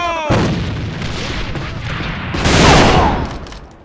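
A grenade explosion in the online shooter AVA during a match: a loud, broad blast rumbles across the clip, swelling to a heavier roar near the end before fading, with gunfire-like crackle around it.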